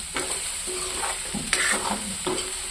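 Scrambled egg frying and being stirred in a pan: a steady sizzle runs throughout, broken by repeated scraping strokes of a spatula at an even pace, close and fairly loud, with no voices.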